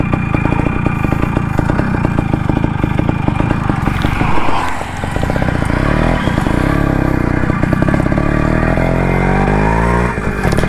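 A restored, modified Max100 motorcycle engine runs close by, a loud continuous rattling putter with a brief dip and slight rev changes midway.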